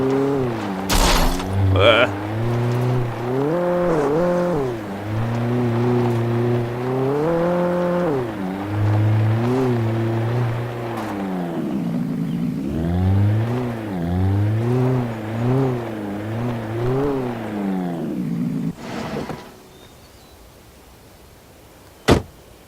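A truck engine in the video game Alan Wake drones steadily, its pitch rising and falling with gear shifts and throttle, then cuts out near the end.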